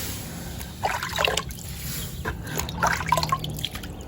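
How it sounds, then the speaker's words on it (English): Water splashes and trickles onto a freshly soldered copper pipe to cool it, coming in short irregular bursts of dripping and spattering over a steady low background hum. "I'm gonna go ahead and put a little water on it."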